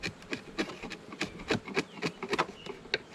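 A sharp chisel shaves and scrapes wood from a beehive box, giving a series of short rasping cuts in an irregular rhythm, close and moderately loud.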